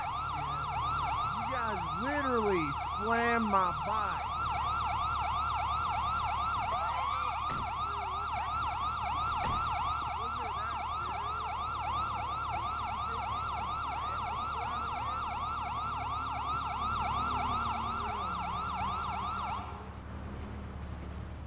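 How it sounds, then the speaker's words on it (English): Police car sirens wail in long, continuous wavering sweeps close by during a roadside bike stop, with an engine rumbling underneath and a voice breaking in briefly at the start before the sirens cut off near the end. "Whose sirens are on?"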